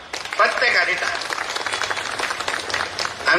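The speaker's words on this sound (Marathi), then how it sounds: "त्यासाठी खरंच तुम्ही प्रत्येकाने त्यांच्यासाठी टाळ्या मारल्या पाहिजे" A crowd claps in applause after a children's performance at a public event, a dense scatter of hand claps over a few seconds, with a voice speaking over it.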